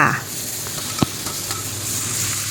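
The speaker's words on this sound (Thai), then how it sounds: "จากนั้นก็ใส่ หมูสามชั้นลงไปผัดเลยค่ะ" Pork belly is stir-fried in a pan with garlic and shallots, giving a sustained hiss of sizzling oil broken by one sharp clank of a spatula against the pan, close by and without speech.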